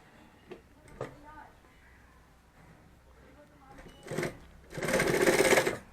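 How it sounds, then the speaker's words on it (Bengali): A sewing machine stitches a handmade bag, a few soft knocks of fabric handling followed by a close, fast whirring run of stitching at the end. "জাস্ট সেলাই করে দেবে।"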